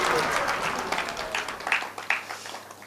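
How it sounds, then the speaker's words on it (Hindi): Audience applause at a Hindi comic poetry gathering, a loud burst of many hands clapping that fades and thins into scattered claps over a few seconds. "तो एक बार जोरदार तालियां हो जाए।"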